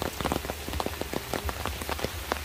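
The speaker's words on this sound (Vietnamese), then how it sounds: "Trời thì mưa rất lớn luôn, hiện tại vẫn còn mưa" Heavy rain pours down at a graveyard under sunny skies, with dense, continuous pattering and irregular louder drops spattering across the surface throughout.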